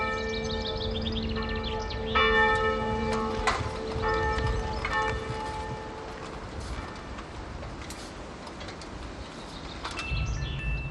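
Church bells of the peaceful village of Boursay in the Sarthe ring out, several overlapping chimes sustaining and fading over a steady outdoor background, with a lower bell joining near the end.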